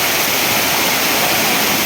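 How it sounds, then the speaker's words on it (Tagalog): Water rushes over Enkanto Falls in a loud, steady, broadband roar that holds unchanged throughout, close by, with no voices. "Lalo yung lagas-las ng tubig, yung magandang kalikasan, malalaking puno."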